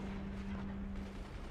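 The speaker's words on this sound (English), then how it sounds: "this is the part where those mortars actually start doing real damage" Mortar shells fire repeatedly in the Forts strategy video game, a dense rumbling barrage of overlapping thuds and blasts sounding continuously with a steady low hum underneath.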